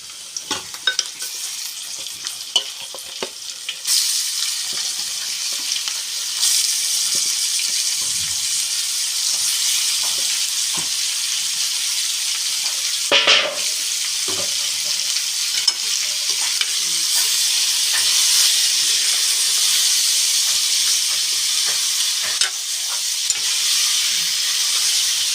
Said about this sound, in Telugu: చికెన్ అయితే తాలింపులో వేస్తున్నాను